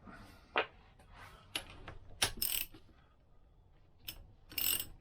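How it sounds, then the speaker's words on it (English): Socket ratchet clicking on a Lambretta big block engine, several separate bursts of sharp ratcheting clicks spread across the stretch, close by and fairly quiet, with no talking. "And I can use a socket, I suppose. Ratchet."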